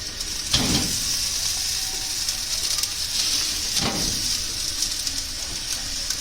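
Tilapia fish laid on a preheated rack in a hot oven give a steady, close hiss of sizzling throughout, with two brief louder bursts, and no one speaks.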